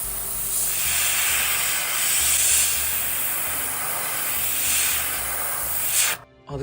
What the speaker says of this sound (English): So we'll just start airbrushing here and along the ridge.